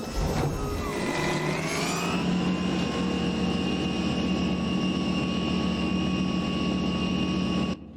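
The custom engine of a Battle Truck in American Truck Simulator roars at high revs near 5,000 RPM, a dense droning whine that climbs in pitch early on, then holds steady and loud throughout with no talk.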